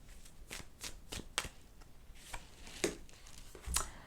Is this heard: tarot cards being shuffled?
yes